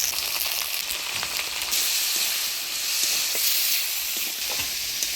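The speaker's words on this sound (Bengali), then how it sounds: "আলু বেগুনটা ভাজা ভাজা করে নিলাম।" Potatoes and eggplant sizzle in hot oil with turmeric and salt, giving off a steady, hissing crackle that stays even and close throughout, with no talking.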